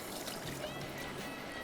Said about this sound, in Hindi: सिरका इसमें 1 कप